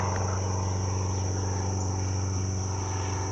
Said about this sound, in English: That sounds like an airplane.